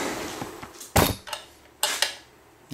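Nylock nuts being tightened on a Kubota BX25D tractor mirror mount. A few sharp, close metallic clinks and clanks ring out at irregular intervals against a quiet background.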